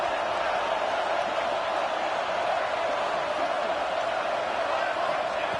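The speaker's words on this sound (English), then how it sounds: "And here comes the noise. This crowd is trying to inspire this defense to make a big red zone stop." A stadium crowd roars steadily as the defense tries for a red zone stop at a football game, a dense, unbroken wash of massed voices holding at a constant loud level throughout.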